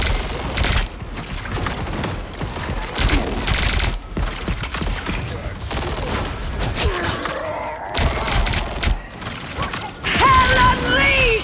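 Pulse cannons fire in a video game, played on a clear-keycap Yunzii X98 keyboard, with dense, rapid mechanical bursts and thuds, a continuous loud barrage mixed with in-game voice sounds.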